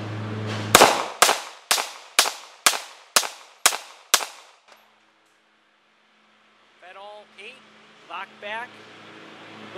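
A Hi-Point C9 9mm pistol fires .38 SWC bullets: eight sharp, loud shots in a quick, even string, then a pause before a person talks.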